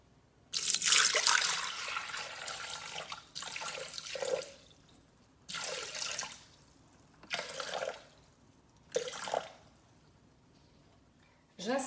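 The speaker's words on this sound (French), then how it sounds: "Ensuite, je vais sur ma balance et je mets 500 g d'eau." Water is poured from a tap into a Thermomix bowl sitting on a scale, in several separate bursts of splashing flow with short pauses between them.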